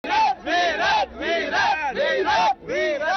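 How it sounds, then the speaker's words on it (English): Cricket fans at an India vs New Zealand match chant and cheer in loud, rhythmic bursts, a crowd of voices rising and falling in repeated phrases with brief gaps between shouts. "what is going to be the cheering inside when Virat is hitting sixes or Rohit is hitting sixes"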